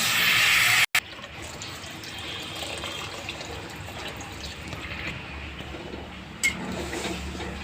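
Water pours steadily into a pot of red lentil dal being sautéed, a continuous close splashing stream that starts loud, briefly cuts out, then settles into a fuller, even flow with a small clunk near the end.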